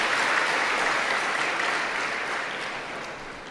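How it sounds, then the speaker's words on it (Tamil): Audience applause at a trust's annual multi-event celebration, a steady wash of many clapping hands that fills the hall and slowly tapers off. "அவருக்காக நாம் எல்லோரும் அவருக்கு பெரிய கைதட்டுகளை எல்லோரும் கொடுக்க வேண்டும் கேட்டுக்கொள்கின்றேன்."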